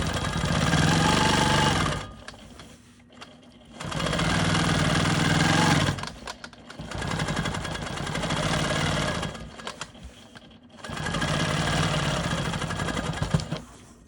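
A Quilt Maker Pro 20 quilting machine stitching free-motion on a quilt block, its steady mechanical whir running in four bursts separated by short pauses, loud and close.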